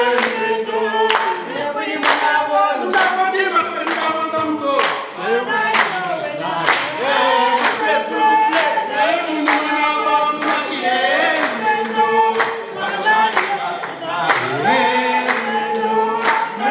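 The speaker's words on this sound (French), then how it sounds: "Les applaudissements, s'il vous plaît," Loud, steady rhythmic hand clapping from the audience at a customary wedding celebration, sustained for the whole stretch with no voices over it.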